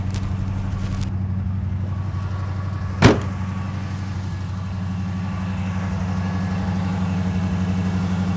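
A 1953 GMC truck engine runs stuck on high idle, a steady mid-pitched drone throughout, with a sharp metallic clack partway through and a brief rattle near the start.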